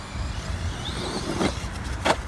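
DHK Maximus RC truck running at full throttle outdoors, a steady motor whine under broadband noise with a couple of short bursts near the end, moderately loud and close, no talk.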